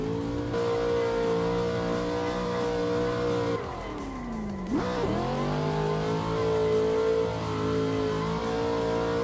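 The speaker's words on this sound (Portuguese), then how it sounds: "O ronco que é meio paia, tem nada a ver com Mustang." Mustang engine in a drifting video game, a steady loud drone that sags through a downshift then climbs again, with faint tire noise under it.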